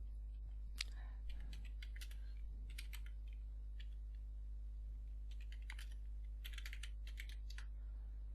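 Keys clatter in quick irregular bursts on a computer keyboard as a search is typed, fairly close but quiet over a steady low hum, with pauses between the flurries.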